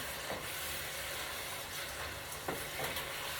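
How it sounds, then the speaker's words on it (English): Long grain yellow rice being stirred into a seafood paella pot gives a faint, steady sizzling hiss with a few soft scraping strokes. "I'm stirring my rice in. This is long grain Mahatma, yellow rice."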